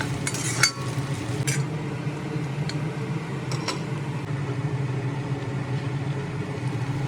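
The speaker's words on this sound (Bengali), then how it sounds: "পেঁয়াজ কুচির সঙ্গে আদা রসুনের পেস্ট ভালোভাবে নেড়ে চেড়ে কষিয়ে" Chopped onion with ginger-garlic paste stirred in a pan, a low steady sizzle with occasional light clinks of a spatula against the metal, close and continuous.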